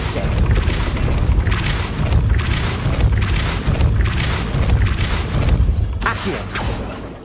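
Repeated heavy whooshing blasts from the Depulso spell in Hogwarts Legacy, several booming pulses in steady succession, loud and close, with a softer stretch just before the last burst.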